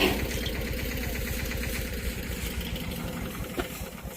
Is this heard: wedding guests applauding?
no